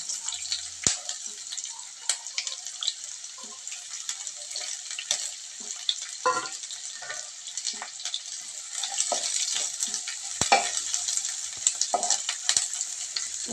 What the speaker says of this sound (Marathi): तो ब्राऊन होईपर्यंत आपण त्याला तुपामध्ये तळून चांगला घ्यायचा आहे